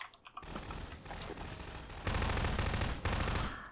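Rapid automatic gunfire rattles in Half-Life 2: Episode Two, with dense bursts of shots in quick succession, loudest in a sustained volley midway before a brief pause and another burst.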